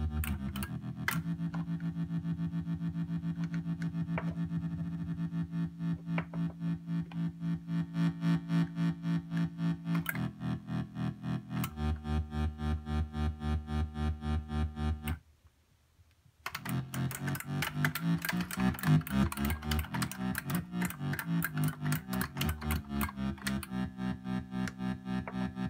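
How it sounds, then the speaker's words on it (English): Tremolo effect on an analog electronics project circuit: a steady buzzing tone pulsing rapidly in volume, with a brief cut to silence midway before a brighter, warbling tone resumes, no talking. "And if we engage the tremolo,"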